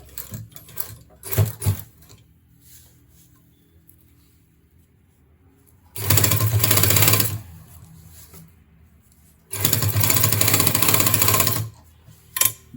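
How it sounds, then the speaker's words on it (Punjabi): A sewing machine stitches in on a pant zipper, running in two steady bursts of about two seconds each. Short pauses separate the bursts, with faint handling clicks in between. "ਆਪਾਂ ਇੱਕ ਸਲਾਈ ਲਗਾਉਣੀ ਆ ਜੀ ਇੱਥੇ"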